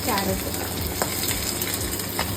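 Garlic, green chili, onion, curry leaves and carrot sautéing in hot oil for egg fried rice make a loud, dense, steady sizzle with a few stirring scrapes.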